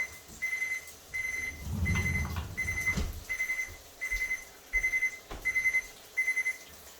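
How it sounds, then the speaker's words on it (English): A kitchen cooking timer going off during dinner preparation, repeating short bursts of high electronic beeps in a steady rhythm, with some clattering handling noise partway through. "Oh, I had a timer go off."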